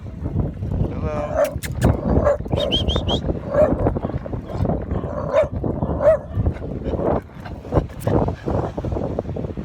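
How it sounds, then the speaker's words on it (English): A dog barks several times in scattered yips on a beach in Vietnam, set against wind and surf noise with some talk around it. "Dogs love to chase my feet."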